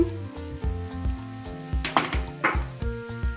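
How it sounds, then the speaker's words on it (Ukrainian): Onions sizzle and crackle steadily as they fry in oil in a pan, with occasional louder spits and a faint background hum. "Ось ми нашу цибульку піджарили на олії, трошки солимо"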